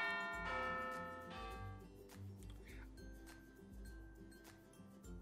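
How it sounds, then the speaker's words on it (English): A bell rings in the Panzermadels tank dating sim, sounding school-style and resonant with sustained ringing tones that fade, set within layered game music and ambience. "Sound of the bell"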